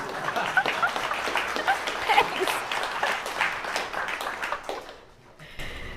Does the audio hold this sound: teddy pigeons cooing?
no